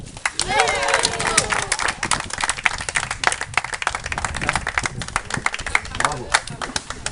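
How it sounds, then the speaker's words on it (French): Club members applaud prize winners at a tennis club doubles tournament awards ceremony. The clapping is brisk and uneven and continues throughout, with voices talking and calling out over it. "On applaudit très fort Karine et Sébastien"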